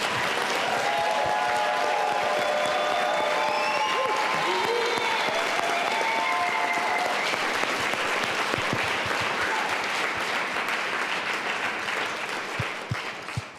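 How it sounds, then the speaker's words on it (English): An audience at a panel event in Manhattan gives a long burst of applause for Kevin and his team, dense clapping from a crowd that gradually tapers off, with some voices mixed in. "big applause for Kevin and his team"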